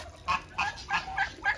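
White African geese honk in a rapid run of five loud, close calls, evenly spaced with short gaps between them and no talk.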